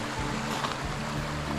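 A river flowing steadily near a fishing spot, a continuous close wash of moving water with low rumble and no talk.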